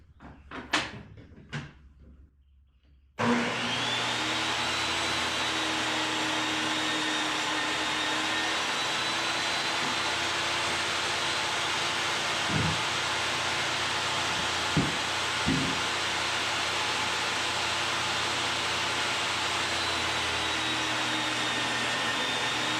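A power saw cuts plexiglass to size for a bird feeder build, starting abruptly after a few short knocks and running as a steady whining drone for about twenty seconds, broken by a few sharp clicks and thumps.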